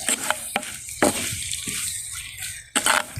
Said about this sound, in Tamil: கருவேப்பிலை பச்சை மிளகாய் எடுத்து வச்சு எல்லாத்தையும் போட்டு இந்த வடிவாக விரட்டி விடுவோம் எண்ணெயில் சேர்த்து